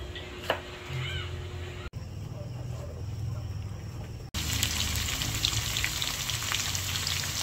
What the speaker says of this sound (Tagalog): Ipiprito po muna ni RJ yung pong patatas at saka po yung carrot.